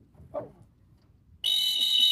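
A loud, piercing dog handler's whistle, like a train whistle, blasts in suddenly and holds steady and shrill, after a brief faint noise and near silence, outdoors over shallow water.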